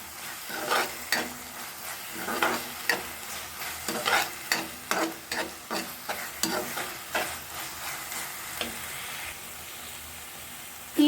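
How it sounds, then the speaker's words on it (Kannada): A pan of watermelon peel halwa mixed with dry fruits is stirred, giving a run of close scraping and soft sizzling strokes in uneven rhythm, steady and fairly quiet with no talk. "ಈ ರೀತಿ ಹಾಕಿ ಎಲ್ಲವನ್ನು ಒಗ್ಗೂಡುವಂತೆ ಮಿಶ್ರಣವನ್ನು ಮಾಡಿ"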